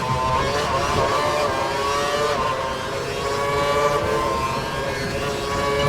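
A Formula 1 car engine screaming at full revs in the racing game F1 2012, a loud, sustained high-pitched whine with steady harmonic tone and slight pitch wavering, heard alone with no talk.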